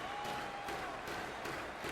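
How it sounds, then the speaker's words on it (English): A hockey arena crowd keeps up a steady, dense buzz of murmuring with a faint scattering of claps, continuous and mid-distance throughout. "this crowd still buzzing after what we saw just a few moments ago"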